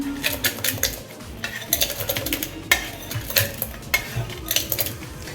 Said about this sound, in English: So first I'll smash the jeera like this.